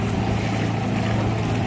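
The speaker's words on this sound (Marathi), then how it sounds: "सो आमगे मोटर बी स्टार्ट जालो आसा" A boat's motor, newly started at the start of a picnic outing, hums in a steady low drone, with rushing water and wind noise around it and no break in the sound.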